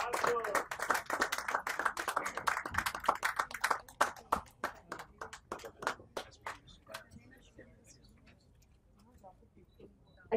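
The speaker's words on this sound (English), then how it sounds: "Please give him a big round of applause." An audience applauds at an award ceremony in the House of Lords, UK, with dense clapping that thins into a few scattered claps before fading to near silence.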